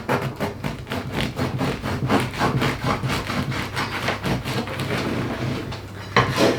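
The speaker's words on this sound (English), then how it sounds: "So cut that right through." A knife saws back and forth through food for brunch in quick, rhythmic strokes, close and clear, with a firmer cut near the end.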